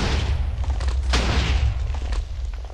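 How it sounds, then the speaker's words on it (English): A TNT cannon explodes in Minecraft: a loud, deep booming rumble that fills the clip, with a sharp burst of crackling debris near the middle. "Boom. See, now it's a bigger explosion."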